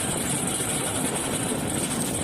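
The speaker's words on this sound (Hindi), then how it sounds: "सबसे बढ़िया लगता है मुझे ओल्ड ट्रैक्टर चलाना," Old farm tractor engine running steadily in a field during harvest work, a continuous broadband rumble held at an even level throughout, with no voices.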